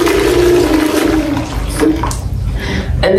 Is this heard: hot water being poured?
yes